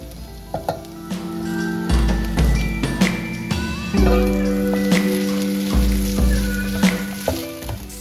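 Tomatoes tipped into a pan of frying onions, bringing a loud, close sizzle with clattering stirs and scrapes, steady throughout over faint background music.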